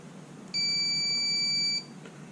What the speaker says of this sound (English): That should beep.